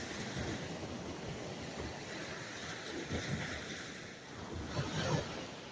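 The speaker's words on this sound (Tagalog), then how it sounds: "pero ayan yung dagat namin" Ocean waves wash onto a provincial seashore as a steady broadband roar with gentle swells and some wind buffeting the microphone, heard alone.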